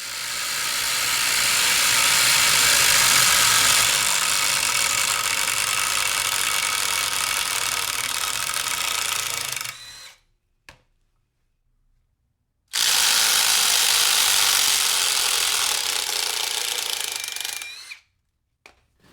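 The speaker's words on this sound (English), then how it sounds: "So let's get to removing those lag bolts with all these impact drivers" Several impact drivers back lag bolts out of wood, each run a long, loud, continuous hammering whir, with a roughly ten-second burst, a short near-silent gap, then a second burst of about five seconds. No one speaks.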